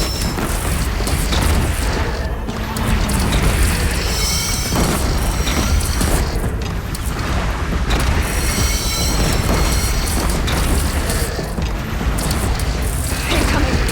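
Cannon fire and explosions from a siege battle in Horizon Zero Dawn pound continuously: loud repeated booms mixed with clanking mechanisms and crashes, forming a dense, relentless barrage.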